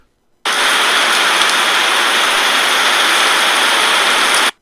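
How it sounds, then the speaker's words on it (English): Heavy rain pours down as a loud, steady hiss that starts abruptly, holds unchanged for several seconds, then cuts off. "Then it began to pour down rain."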